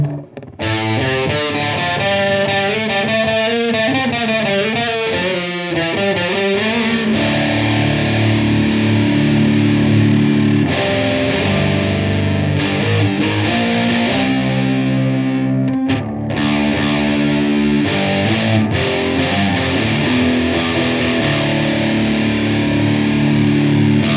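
Electric guitar run through a Sondery Chorus pedal with distortion switched on, playing loud, continuous distorted chords and melodic runs with a warbling chorus shimmer, no talking.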